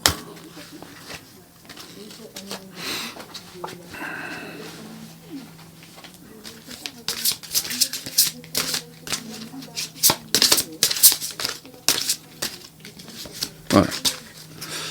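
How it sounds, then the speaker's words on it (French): A French-speaking woman shuffles and draws oracle cards. Soft riffling and flicking of the cards turns into denser, sharper slaps and patters in the second half, with her voice heard intermittently. "je vais commencer par tirer les deux oracles"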